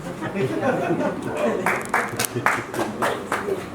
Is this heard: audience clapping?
yes